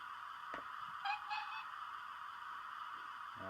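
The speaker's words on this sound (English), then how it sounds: "2 bursts of the whistle." Two quick electronic whistle toots from a Hornby TTS King Richard II model locomotive in succession, fairly short, over a constant low hum, followed by faint clicks.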